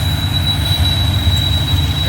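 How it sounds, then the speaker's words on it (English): A loaded freight train hauling heavy steel rolls past close by with a loud, steady low rumble and a thin, sustained high-pitched wheel squeal riding over it. "Got some squeaky wheels, they're pulling hard, y'all."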